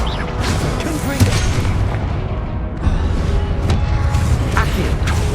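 Hogwarts Legacy combat with a Confringo blasting spell, heavy booming explosions and blasts landing loud and close amid dense crackling battle noise, several sharp impacts punctuating a continuous roar.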